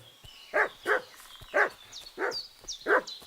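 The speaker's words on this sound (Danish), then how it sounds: "Det virker ret fredeligt, de hunde der." Dogs bark in Kingdom Come: Deliverance 2, a string of about six short, moderately near woofs spaced through the scene with quiet ambience between them.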